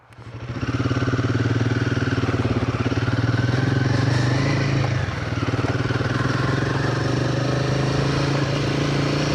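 Royal Enfield Himalayan 450 adventure motorcycle riding onto a forestry road track, its engine droning loud and steady with a throbbing low pulse throughout, a brief dip midway, no talk.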